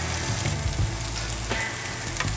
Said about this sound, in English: And we're just trying to get a nice sear on each side.